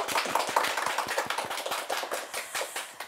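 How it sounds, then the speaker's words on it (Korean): Applause from an audience after a lecture by a Catholic priest, heard as a burst of many dense, sharp claps of even loudness with no voices over it. "오늘도 열정 가득한 강의를 해주신 신부님께 큰 박수 부탁드립니다"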